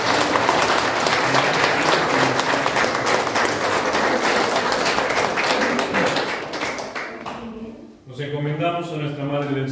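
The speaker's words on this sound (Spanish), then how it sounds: "vamos a darle también un aplauso a nuestra hermana Mireille" Congregation applause during a baptism and first communion ceremony at a ranch in Tepexi de Rodríguez, full, sustained clapping for several seconds that fades out before a voice starts speaking.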